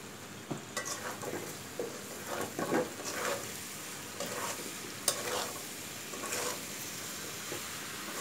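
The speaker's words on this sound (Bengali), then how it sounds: "আম কিছুক্ষণ ভেজে নেওয়ার পর 7-8 মিনিটের মতো এখন আমি দিয়ে দিচ্ছি এতে চিনি।" Raw, sour mango pieces fry in a pan with sugar for a sweet-and-sour pickle, giving a faint, steady sizzle. Intermittent scrapes and clinks of stirring break through it, with no voices.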